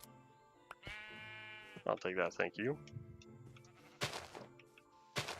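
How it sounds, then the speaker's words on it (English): Blocky sheep in Minecraft bleat twice in quick wavering calls, loud and close, followed by a few short game clicks while someone speaks quietly. "There's another sheep."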